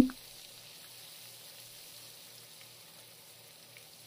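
Chopped onion and green chilies sizzle softly in hot oil with whole spices, a low, even hiss that continues steadily after a brief initial clatter.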